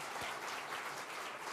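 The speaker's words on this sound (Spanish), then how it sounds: "¿por qué no damos un aplauso al equipo de alabanza que hicieron?" Brief, soft applause for a church worship team, a thin even patter of clapping somewhat distant in the hall.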